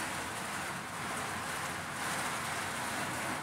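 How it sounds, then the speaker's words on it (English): Steady, heavy rain drums hard on a truck roof, a dense continuous hiss with no pauses and no voices. "Raining like hell."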